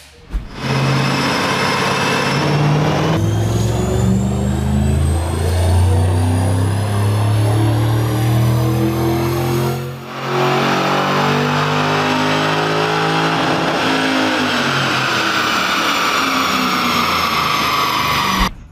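A 2005 Mustang GT with a tune only, low mileage, revs hard on a chassis dyno, its loud engine climbing steadily in pitch through a long pull, dropping briefly near the middle, then winding up again to the end.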